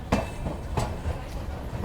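Rolling rail noise from aboard the Gurumukhi Superfast Express as it passes slowly through Madhupur station, with a steady rumble and a few sharp wheel clicks over the rail joints.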